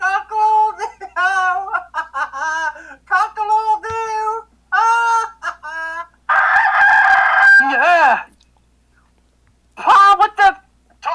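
Rooster crowing in a cartoonish sound-effect sequence: a voice imitates the cock-a-doodle-doo several times, then a louder genuine-sounding crow follows, loud and close, in repeated bursts.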